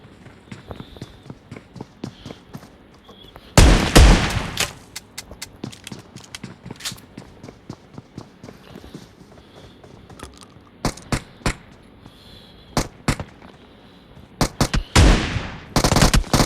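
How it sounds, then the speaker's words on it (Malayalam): Gunfire in the PUBG battle game, with a shotgun among the weapons: scattered sharp shots, a loud close volley near the start and later bursts, over quiet footsteps and ambient noise. "ഷോട്ട് ഗൺ കൊള്ളാം"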